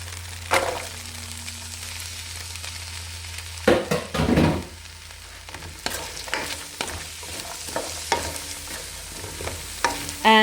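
Carrots sizzle steadily in hot oil in a pan for Mauritian chicken fried rice. Intermittent scraping and stirring clatters from the utensil break through the continuous frying hiss.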